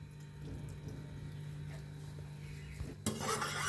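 Water trickles and splashes steadily as a wet cloth is squeezed by hand while making pumpkin kheer, ending in a brighter gush of liquid.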